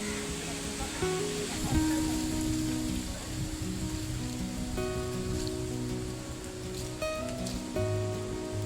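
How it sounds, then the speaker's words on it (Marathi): The waterfall at Baneshwar Mahadev temple in Nasrapur, near Pune, gives a steady, full roar of rushing water throughout, with faint voices and scattered tones over it. "हा धबधबा पहिल्यांदा बघितला"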